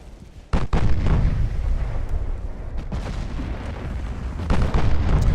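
Heavy battleship naval gunfire in Ultimate Admiral Dreadnoughts, a German 1940 super battleship trading fire: a sharp cannon boom opens, followed by sustained rumbling barrage and further distant booms near the end, loud and continuous with no talk.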